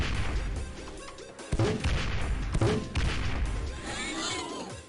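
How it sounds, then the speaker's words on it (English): Grenades burst in the X-Piratez strategy game, a dense run of booming blasts with sharp onsets around the 1.5, 2.6 and 3 second marks, each leaving a rumbling tail over a continuous noisy background. "I can dump my entire payload of grenades on that"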